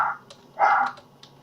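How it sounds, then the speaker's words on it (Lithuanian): A dog barks twice nearby indoors during a gaming session, one short yap followed by a louder, longer bark, with quieter thumps and small noises between them. "Atsiprašau už jūs pašalinius šuns lojimo garsus."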